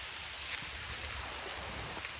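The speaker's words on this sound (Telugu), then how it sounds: "చాలా రోజుల తర్వాత వర్షం వస్తుంది." Steady monsoon rain falls outdoors, a dense, even hiss of drops on surfaces that continues unbroken without any voices.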